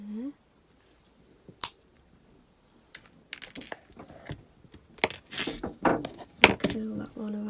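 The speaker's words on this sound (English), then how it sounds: "Then I'm going to cut off this wire about there." Jewelry wire being snipped with cutters while making earrings, sharp clicks and snips close up among small handling taps, loudest toward the end, with a brief voice at the very start.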